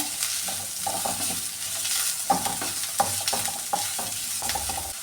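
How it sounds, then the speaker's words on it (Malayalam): Thinly sliced onions frying in a pan for masala dosa filling, with a continuous sizzle broken by several sharp clinks and scrapes of a stirring utensil. "ഇനി ഇതിലേക്ക് ഈ സവാളയും കൂടി ഇട്ട് കൊടുക്കുവാണേ"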